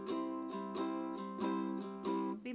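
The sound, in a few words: ukulele strum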